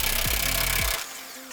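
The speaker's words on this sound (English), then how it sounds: "Use an impact drill to remove the bolt." Impact drill hammering loose the upper trailing arm bolt on a Ford Bronco, a loud continuous rattling whir with pitch drops as it bogs, stopping abruptly after about a second.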